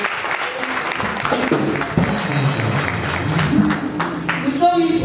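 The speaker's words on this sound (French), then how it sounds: "Acclamons bien fort." Audience applause at an event honouring Ethiopian Airlines for best airline in Africa and best business and economy class, a dense sustained round of clapping from a crowd, fairly loud and close, with voices mixed in.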